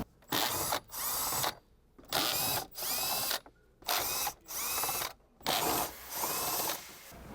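Cordless power tool spinning out 10mm bolts inside a Toyota GR86 cabin, running in six or seven short bursts with brief pauses between them, close and fairly loud, no talking.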